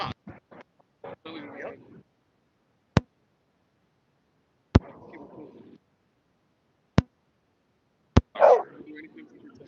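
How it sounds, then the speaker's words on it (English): A dog barks in sharp, scattered bursts, some close and loud, mixed with people talking nearby and several sudden loud knocks or claps. "Your dog is barking at us."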